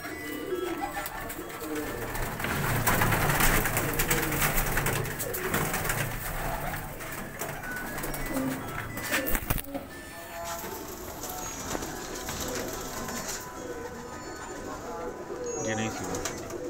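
Pigeons coo softly in a busy outdoor space, their calls mixed with steady background noise and a few scattered sharp knocks.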